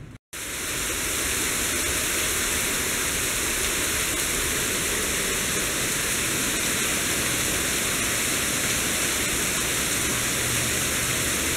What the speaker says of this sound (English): Andrew purposely wanted to go out in the rain because he wanted to use his new umbrella